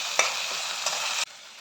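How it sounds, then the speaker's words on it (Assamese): Masala for ghuguni sizzles in hot oil and gets stirred in a pan, a close, loud hissing fry broken by scraping strokes, then the sizzle drops suddenly to a quieter simmer. "পানী অলপ ঢালি ভালদৰে লৰাই দিওঁ মিক্স কৰি দিওঁ"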